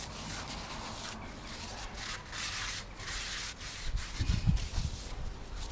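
A new front brake disc for a 2015 Ford B-Max, coated in storage oil, gets wiped down with brake cleaner, making continuous close rubbing and swishing strokes with a few heavier handling bumps near the end.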